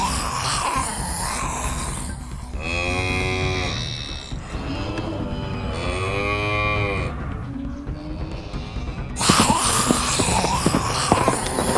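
A cow figure in a farm animal diorama gives two long, drawn-out moos, each a few seconds long, loud and close over a low background rumble, with no talk.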